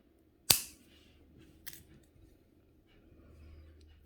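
Scissors snip through wire while earrings are being made, one sharp close click followed by a fainter second snip in a quiet room.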